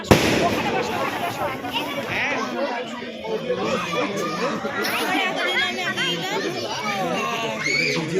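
Fireworks bursting at a wedding, scattered crackling pops and bangs mixed into a loud crowd of children and adults chattering and shouting nearby.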